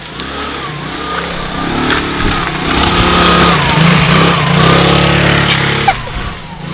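A postman's vehicle pulls up nearby, its mid-pitched engine rising and swelling for several seconds, then easing off with a brief clunk near the end, heard outdoors with no talk.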